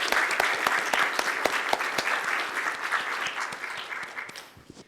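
Conference audience applauding the organizers at the close of a mathematics talk session, a dense steady round of many hands clapping that holds for several seconds before tapering off at the end.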